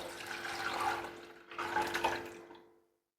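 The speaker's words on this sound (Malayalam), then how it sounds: "ഇനി വെള്ളം നമ്മൾ അരി അളന്ന് വെച്ച പാത്രത്തിലേക്ക് ഒഴിച്ചു കൊടുക്കാം." Water pours fairly softly into a pot of measured rice in a home kitchen, running in two short streams before trailing off into silence.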